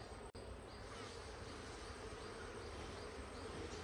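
Honeybees buzz steadily and densely around hive comb, a continuous close swarm hum with no pauses.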